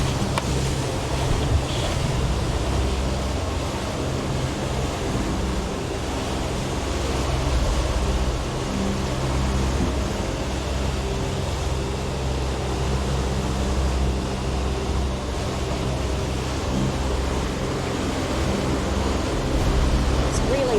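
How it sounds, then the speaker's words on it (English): Large ocean swell sloshes and surges around a sailing boat crossing Queensland's Wide Bay Bar in 3 m seas, a broad roar of water and wind with a droning engine beneath and occasional speech. "Hard to explain how big these waves are."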